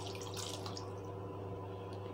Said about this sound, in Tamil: 1/2 கப்பு தண்ணி வந்து பாத்திரத்தில் கழுவி ஊற்றிடுங்க.